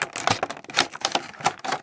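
Taped wraparound plastic being pulled off a Star Wars Black Series Chewbacca figure package, a quick run of close crinkly crackles and snaps in an uneven rhythm.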